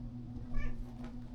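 A cat meows once from beneath a chair, a short, fairly soft call over a low steady room hum.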